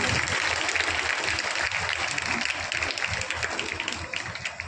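An audience at a Punjab school education event in Balluana village gives loud, continuous applause that holds steady and then slowly tapers off.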